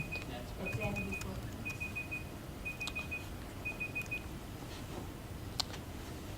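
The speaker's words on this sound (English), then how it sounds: "That was your timer going off." An electronic timer beeps in a steady series of short, evenly spaced beeps during an indoor mob-programming session, heard over a low room hum and faint background noise.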